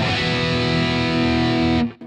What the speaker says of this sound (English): And when I'm playing the same thing on the neck pickup now